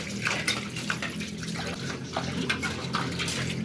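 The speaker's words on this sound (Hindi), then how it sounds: "मैं बाहर बैठ के ताज़े पानी के साथ बर्तन धो रही हूँ" Dishes washed outdoors under fresh water from a tank, steady splashing and trickling with occasional clinks of utensils, close and continuous at moderate volume.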